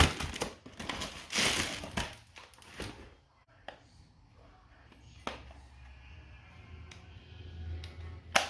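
Packaging of a radio-controlled crawler's transmitter being opened, with loud crinkling and rustling up close for the first few seconds, then quieter scattered handling clicks and thumps over a low background hum.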